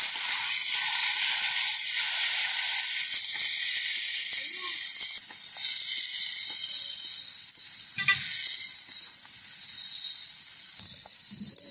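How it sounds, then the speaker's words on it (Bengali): Washed dried loitta fish frying with onions in hot oil, a loud, dense, continuous sizzle close up, with a few faint utensil knocks and shifts beneath it. "শুটকি মাছগুলো আমরা পেঁয়াজের সাথে ভালোভাবে ভেজে নিব।"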